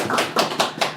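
A church congregation gives a round of thanks applause during a Sunday service, heard as four evenly spaced, fairly loud clap bursts in quick succession.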